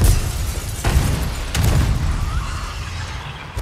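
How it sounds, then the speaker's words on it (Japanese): A loud, sustained explosion rumbles on board a ship in the video game Resident Evil 4 Separate Ways, booming at the start and rolling on with little letup. "これで、はい、爆発。"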